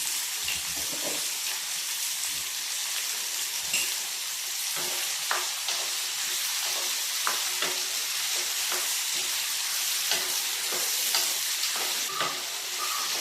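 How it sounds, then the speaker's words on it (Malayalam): Tamarind pickle mixture sautéing in a pan with sesame oil, giving a continuous sizzling hiss broken by repeated scraping and stirring clicks from a spoon, close up with no talking. "എല്ലാം നന്നായിട്ടൊന്ന് വഴറ്റിയെടുക്കാം"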